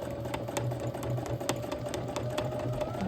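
A domestic sewing machine runs steadily through free-motion quilting on fabric, a continuous mechanical whir with rapid needle ticking that stays close and even throughout, no voices.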